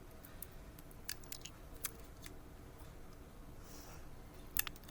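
Scissors snip the flattened end of a plastic soda straw to shape a straw oboe reed, giving a few faint, sparse clicks close by in a quiet room.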